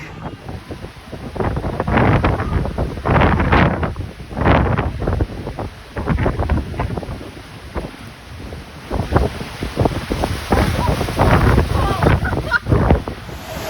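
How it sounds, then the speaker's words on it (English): Strong wind gusts buffet the open deck of the Voyager of the Seas cruise ship at sea on a cold Baltic day, roaring loudly in uneven bursts with a steady hiss underneath. "it is just so cold and windy out"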